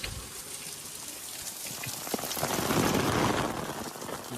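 Steady rain pours down outdoors during a monsoon downpour, a dense, even hiss of drops on surfaces that swells slightly louder toward the end, with no voices.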